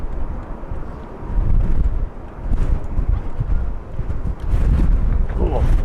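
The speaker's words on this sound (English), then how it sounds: "Oh, wind's been blowing me over here" Gusty wind buffets the microphone at an airport, producing loud, uneven low rumbling that swells and eases throughout, with brief voices underneath.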